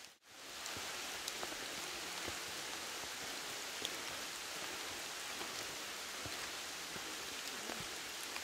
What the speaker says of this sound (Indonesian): Udah hujan lagi.